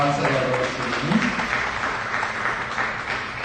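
A church congregation applauds during worship, with clapping mixed with a voice speaking over it, moderately close and steady.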